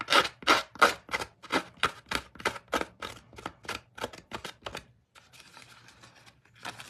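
Scissors snip rapidly and rhythmically along paper edges to distress them, about fifteen crisp close cuts in a steady run, followed by softer scraping and rustling of paper.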